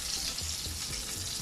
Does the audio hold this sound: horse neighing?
no